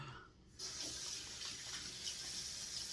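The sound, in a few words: splashing cool water on the face during shaving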